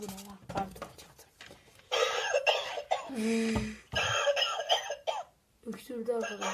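A novelty gadget that coughs when shown a cigarette lets out repeated short, rough coughing sounds. People talk nearby between and over the coughs.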